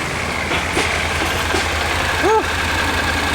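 A new motorcycle engine runs at a steady low rumble on a road with traffic around, continuous and fairly loud, while a brief voice sounds over it.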